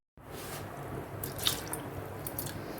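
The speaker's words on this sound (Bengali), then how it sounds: "আরও একটু চাল ধুয়ে বসিয়ে দিলাম।" Running water and soft drips while rice is rinsed in a home kitchen, a steady splashy wash with a few brief louder splashes, close and alone with no talk.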